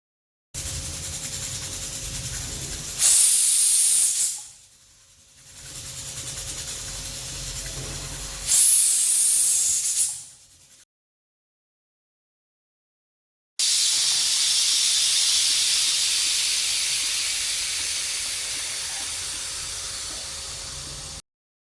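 A pressure cooker holding kantola (spiny gourd) on a medium flame lets out a steady loud steam hiss in several long bursts, with brief sharper shrill surges and a pause of silence between, no voices.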